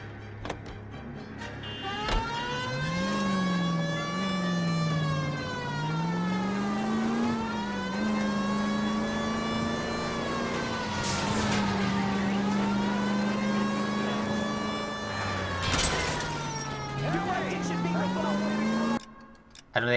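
Car engine in the LA Noire video game, revving and rising and falling in pitch as it accelerates through gear changes, steady and close for the whole stretch, with a few sharp knocks near the end.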